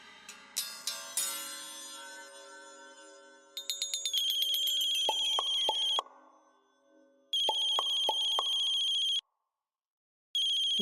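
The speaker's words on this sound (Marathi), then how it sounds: "शिंदे, राणा भाऊजींचा फोन आहे, उचल आणि नीट बोल" A telephone rings with a bright, melodic electronic ringtone. A quick run of chimes leads into repeated loud bursts of tones separated by short silent gaps, with no voices.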